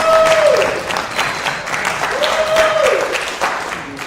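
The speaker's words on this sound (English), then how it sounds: "Let's give a round of applause to all the Mardi Gras crew." Audience applause in a hall at a New Orleans band directors conference, steady dense clapping from a large crowd filling the whole stretch, with a faint whistle rising over it twice.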